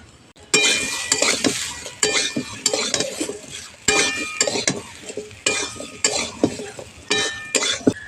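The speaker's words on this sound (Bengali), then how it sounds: "আলু আর পেঁপের সঙ্গে মুগের ডালটা একটু ভালো করে ভেজে নিতে হবে" Papaya, potato and mung dal stirred and frying in oil in a pan, with repeated scraping strokes of a metal spoon and clinks against the pot over a steady close sizzle, no voices.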